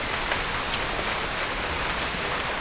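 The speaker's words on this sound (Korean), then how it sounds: "갑자기 소나기가 쏟아집니다" A sudden rain shower pouring down, a dense, even hiss of heavy rain hitting surfaces, steady and close for the whole stretch with no voices.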